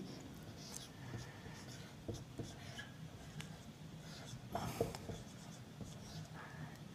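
Chalk or marker scratches on a board during a chemistry lecture, faint scattered strokes and taps over a quiet room with some soft voice in the background.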